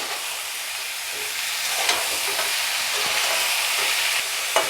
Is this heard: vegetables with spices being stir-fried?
yes